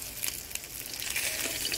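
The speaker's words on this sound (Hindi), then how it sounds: "अभी हम लोग का मछली फ्राई हो गया" River fish frying in oil in a rural village kitchen gives a steady, close hiss and crackle with small pops scattered throughout, no talk.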